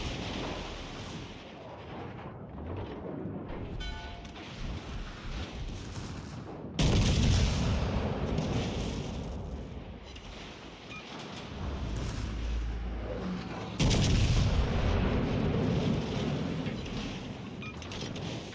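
Warship main guns firing at a destroyer in World of Warships Legends, heavy booming salvos with rumbling roars layered over steady game background noise, two sharp loud volleys standing out.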